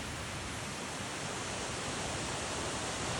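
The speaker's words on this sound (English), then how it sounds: "Here's another look at the Mossbury Falls." Steady broadband roar of Mossbury Falls, a waterfall near a trail and water crossing on Mt Shasta, a constant rushing wash of falling water heard up close with no voices.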